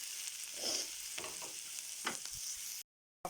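Chopped onion fries in a pan alongside salmon cream, a steady close sizzle with a few soft stirring scrapes, then a sudden cut to silence near the end, no voices.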